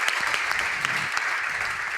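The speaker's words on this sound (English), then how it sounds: "The crowd goes wild yet again." A live crowd at a Clash of Clans Town Hall 12 update event applauds and cheers, with dense continuous clapping that stays loud and even throughout.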